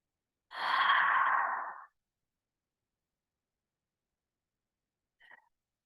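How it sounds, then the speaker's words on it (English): One long, deep exhale during a slow yoga neck and shoulder stretch, close and clear against silence, followed several seconds later by a faint, brief breath. "We'll take 3 breaths."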